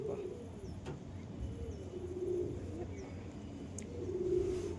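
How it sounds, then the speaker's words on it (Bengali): Pigeons cooing nearby, repeated soft low rolling coos in short phrases, with faint chirps and a quiet background hum. "এই দুটো হচ্ছে পায়রা"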